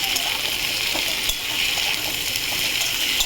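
Ginger frying in hot oil while being stirred for a fish-head curry gives a steady, close sizzle with scraping stir noises running through it.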